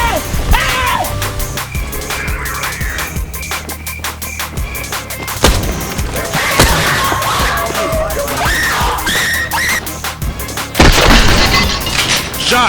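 Enemy gunfire in the Apex Legends battle royale shooter, rapid cracks and booming shots packed densely together, loud and continuous over game sound, with a brief voice heard.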